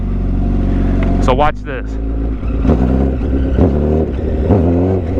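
A 1000cc motorcycle revs hard in first gear, the engine note rising and falling in loud surges close by, with someone talking over it.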